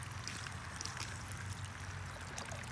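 Water poured gently over a cyanotype print outdoors to rinse off the excess chemicals, a soft, steady splashing trickle that stays faint and continuous throughout.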